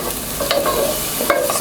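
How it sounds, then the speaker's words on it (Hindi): Crushed red chilli and orange zest sautéing in a pan over medium-low heat, a close sizzle with several short scraping stirs of a spatula, no voices. "इसको हम सौते करेंगे तकरीबन 1 मिनट तक"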